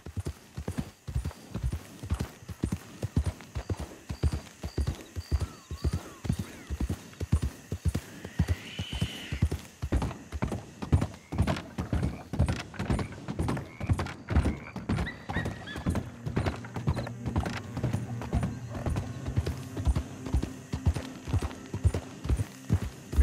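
Horse hooves clip-clop steadily in Red Dead Redemption 2, a close, regular rhythm of sharp hoof strikes on hard ground, with a brief whinny partway through and a faint voice.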